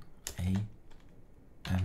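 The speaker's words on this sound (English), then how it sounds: "Do we really need to type everything in?" A computer keyboard is tapped while a terminal command is entered on a Linux Mint machine, the clicks coming in two short close bursts separated by a pause, with a voice speaking briefly.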